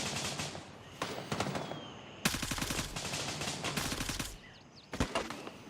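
Crossfire in the Gray Zone Warfare shooter game: repeated rapid bursts of automatic gunfire, loud and close, with brief pauses between volleys.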